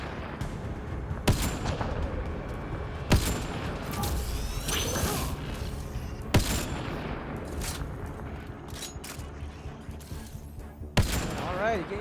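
Gunshots in the sci-fi shooter Mass Effect Andromeda, a handful of sharp, loud cracks spaced several seconds apart over a dense roar of combat noise and game effects.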